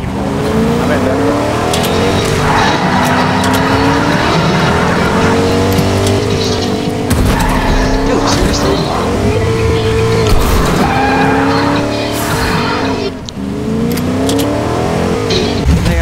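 A truck is driven hard in a video game, its engine revving and shifting continuously with tire squeals and skids, while players talk over the steady engine noise.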